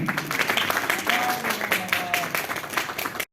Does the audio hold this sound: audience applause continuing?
yes